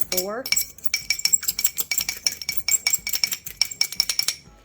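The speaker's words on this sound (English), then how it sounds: "I always scramble my egg before I just add it in" An egg is whisked with a utensil in a bowl before being added to an Italian meatball mix, a quick run of rapid rhythmic clinking taps against the bowl, close and crisp, after a brief voiced sound at the start.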